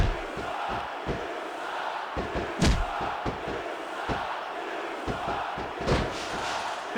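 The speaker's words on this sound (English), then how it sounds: "This crowd is hoping to see a little bit of the arrogance beaten out of Rene Dupree" Arena crowd in the WWE SmackDown vs. Raw 2006 video game cheering and roaring steadily throughout a Royal Rumble match, with sharp slams and thuds from the ring cutting through the constant noise.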